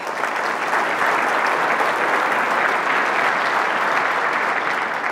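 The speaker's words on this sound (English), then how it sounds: "Let's give them another round of applause." A large audience at a city's State of the City event in Portsmouth, Virginia claps in sustained, dense applause, loud and steady throughout with no pauses or voices.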